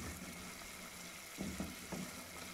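Tomato paste poured into a pan of lightly browned onions while cooking Multani chickpeas gives a soft, steady sizzle with a few faint bumps partway through.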